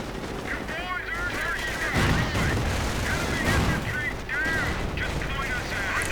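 Mortar rounds and rattling gunfire echo across a World War II strategy game battlefield, with dense overlapping shots and booms at a moderate distance, beneath a commentator's voice.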